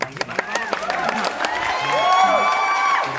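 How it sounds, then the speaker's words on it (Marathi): Several people clap and cheer at a home party in Amravati, a burst of hand claps mixed with lively voices and whoops, talk running under the applause. "टाळ्या वाजव."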